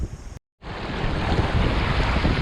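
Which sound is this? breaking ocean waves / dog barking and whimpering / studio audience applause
breaking ocean waves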